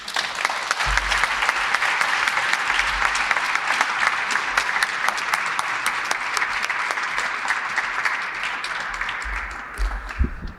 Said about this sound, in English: Can we just have one more round of applause for all of our honorees today?